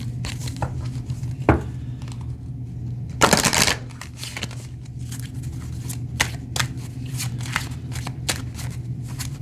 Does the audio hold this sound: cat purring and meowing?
no